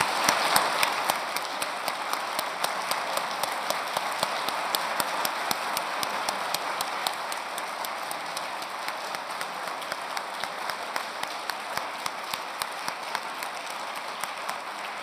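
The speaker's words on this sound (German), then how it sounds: "Applaus" Audience at a university college anniversary lecture in Tübingen applauding to welcome a guest; sustained, even clapping from a large hall, moderately distant and steady for the whole stretch.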